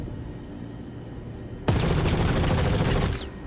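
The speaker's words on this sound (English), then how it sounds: "It's the fastest I've moved to shoot something in my life." Rapid automatic gunfire bursts out loud and close partway through a Star Citizen firefight, then cuts off, after a quiet stretch of low ambient game rumble.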